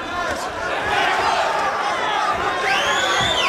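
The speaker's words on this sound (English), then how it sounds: "Crowd back into it a little bit." A boxing crowd roars steadily at a Martirosyan vs Ouma fight, a dense wash of cheering and shouts under continuous ringside commentary.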